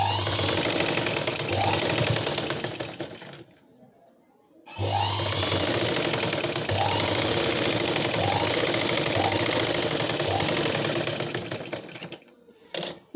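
A sewing machine stitches a blouse in fast, steady mechanical bursts, stopping briefly and starting again, then halting near the end amid faint handling noise.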